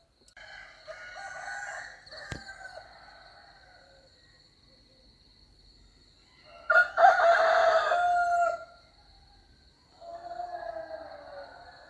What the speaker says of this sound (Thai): เสียงไก่ขันนะครับผมพี่น้อง